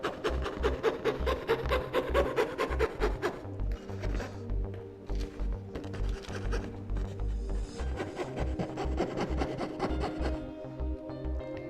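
A saw works through wood, hollowing out an Arabic calligraphy letter, with rapid, repetitive rasping strokes, steady and close, pausing briefly before continuing.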